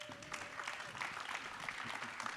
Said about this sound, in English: if you guys could join me in giving our panel a round of applause